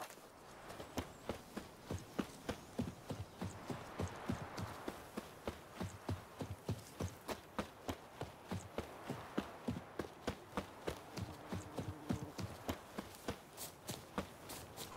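Horse hooves in the video game The Witcher 3 beat out a steady, fast rhythmic clatter throughout while riding, close and clear, with faint background ambience.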